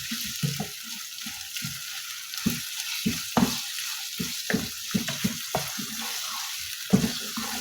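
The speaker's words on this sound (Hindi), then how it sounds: "अब फ्लेम को हाई करें और कीमे को इसमें इस तरह से भून लूँगी मैं" Minced meat keema frying with onions in a pan over a high flame, a constant hiss of sizzling broken by repeated soft scrapes and thumps of stirring, close and alone.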